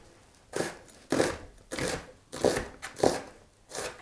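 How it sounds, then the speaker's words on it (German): A knife chops an onion on a board for goulash soup, about seven firm, evenly spaced cuts, close and distinct with quiet gaps between, no voices. "Für unsere Suppe schneide ich als erstes die Zwiebel klein"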